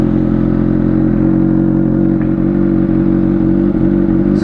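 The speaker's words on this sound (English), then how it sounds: "let's turn on the bike and I'll let you guys hear the exhaust." A Honda CBR600RR sport bike idles steadily at close range, a loud, continuous low engine and exhaust rumble with a faint mechanical clatter and no pauses.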